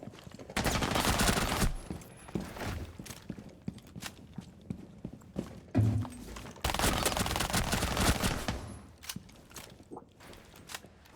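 Gunfire in Rainbow Six Siege, dense automatic bursts and rattling shots in long sustained stretches, with quieter gaps, footsteps and softer shots between the louder volleys.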